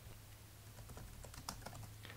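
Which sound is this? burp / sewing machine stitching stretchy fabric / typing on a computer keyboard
typing on a computer keyboard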